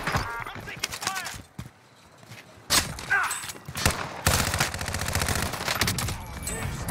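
Gunfire in Warzone Rebirth Island, the battle royale shooter, arriving as scattered sharp bursts and rapid cracks through the match, mixed with footsteps and game noise while players talk over it.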